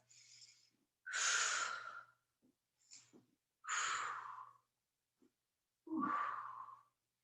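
Slow, audible yoga breathing during a held pose, close and quiet: three long, airy inhale-exhale rushes with short sniffs between them, separated by near silence.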